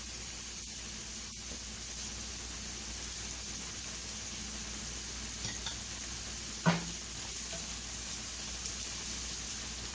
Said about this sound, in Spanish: ya prendimos el fogón otra vez y vamos a echarle la carne de las costillas ahumadas